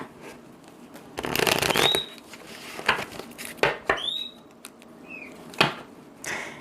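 Tarot cards being shuffled by hand, several close bursts of riffling and sliding cards with short gaps between them and no talking.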